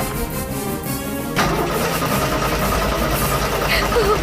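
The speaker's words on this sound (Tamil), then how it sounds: "ஜீப் ஸ்டார்ட் ஆக மாட்டேங்குது." A jeep engine cranking but failing to start, a steady loud grinding churn that jumps up partway through, with voices in the scene.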